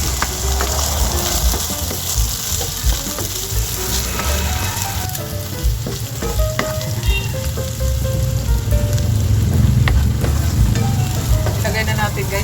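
Garlic and white onion sauté in hot oil with a loud, continuous crackling sizzle close by, broken up by scattered stirring clinks and scrapes, and no voices.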